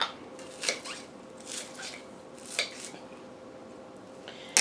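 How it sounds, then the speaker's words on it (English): Food is shredded and chopped by hand for a layered dip, giving soft scattered knife taps and scraping clicks against a board, close and fairly quiet, with no talk. "you're just going to shred it up the same way you would find it in a taco or even in a chopped salad"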